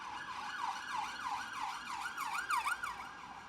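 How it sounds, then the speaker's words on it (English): A wailing siren sweeps up and down in steady, rapid cycles as an emergency vehicle passes outside, moderately loud and slightly distant, with no voices over it. "we've got a siren going past"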